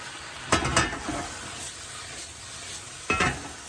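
Spinach wilting in a hot pan for a Parmigiano-crusted pork tenderloin dish, a quiet steady sizzle broken by two short bursts of stirring or scraping, no voices.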